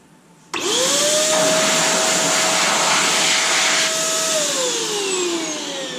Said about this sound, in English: XPOWER 1000 watt air blowing device